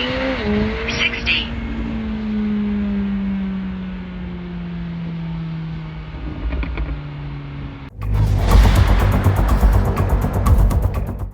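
McLaren 765LT Spider with a twin-turbo V8 and rear-wheel drive, idling with a falling engine tone before a sudden loud roar as it launches hard from 0 to 60, the raspy exhaust building close and dominant.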